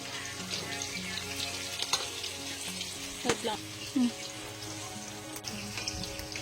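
Banana cue cooking: sliced bananas frying in oil with brown sugar, a steady close sizzle with occasional clinks and scrapes of a utensil and light background hum.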